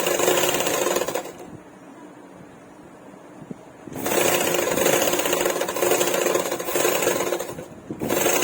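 A sewing machine runs in two long, steady buzzing stretches as it stitches a seam on a double katori blouse, with a short quiet pause between runs and another start near the end.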